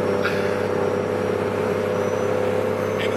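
A Cummins diesel pickup with a BorgWarner SXC 369 turbo and bed stack runs steadily, a loud sustained engine drone with a thin high whistle laid over it throughout.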